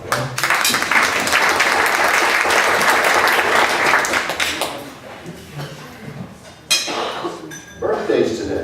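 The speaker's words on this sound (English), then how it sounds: "A nice round of applause." Applause from a meeting audience fills the room loudly for about four seconds, then thins into scattered claps and fades, with faint clinks of glasses and cutlery and some voices chatting at the end.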